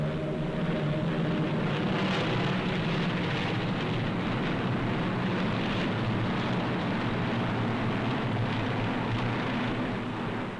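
Formation of WWII fighter aircraft in flight, a dense continuous engine drone at steady loudness, with no voices.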